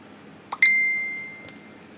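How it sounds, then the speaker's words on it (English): A phone gives a single clear notification ding that rings out and slowly fades over about a second, with a faint tap just before it and soft room noise behind. "my phone ding, that's probably my wife sending me a picture"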